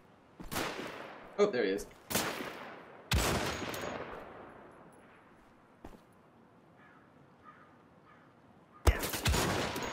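Enemy gunfire in the Wolfenstein: The Old Blood video game: several sharp, loud bursts of shots spaced irregularly, with fainter single shots trailing between them and a brief spoken remark over the action.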